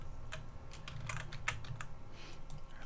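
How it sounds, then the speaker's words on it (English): Keys clack on a loud computer keyboard in steady, uneven bursts of typing, close to the microphone, over a low constant hum with no voices. "I'm trying really hard not to press so hard on the keys, but I need to just buy a quieter keyboard"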